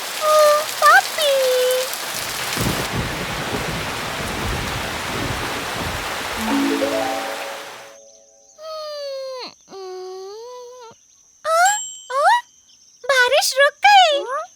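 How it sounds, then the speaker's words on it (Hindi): Rain pattering steadily in a Titipo animated cartoon, a broad hiss lasting several seconds with short cartoon voices and tones over it, then giving way to bright chiming sounds as it ends. "बारिश रुक गई।"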